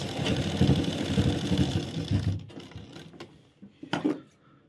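A sewing machine runs for about two seconds stitching a reinforcing tack on a trouser cross pocket, a loud continuous whirring rattle, then stops, followed by a couple of light clicks and a short knock.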